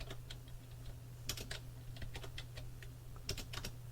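Quick bursts of typing on a computer keyboard while loading programs in an Aquarius emulator, crisp close key clicks in short irregular runs over a low steady hum, no talking.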